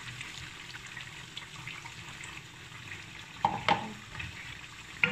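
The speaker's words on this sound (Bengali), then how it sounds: "পরিমাণ মতো পানি দেব।" Water is poured into a pan of sizzling prawn malaikari masala, giving a steady fry hiss that breaks into two brief louder splashy bursts near the end, close up with no talking.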